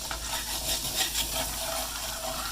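Butter stirred around a hot pan while cooking chicken marsala, a soft wet sizzle with light scraping that goes on steadily for a couple of seconds, close and fairly quiet.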